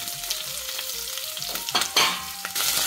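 Two medium onions sauté with cumin and curry leaves in a pan for peas pulao, a steady close sizzle broken by a few louder stirring scrapes.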